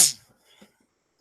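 A single short sneeze bursts out at the start, followed by near silence with a faint rustle.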